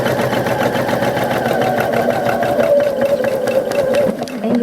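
A sewing machine stitching paper-pieced quilt circles with a regular stitch, a steady close whirring hum with a rapid needle rhythm that runs throughout and eases slightly near the end.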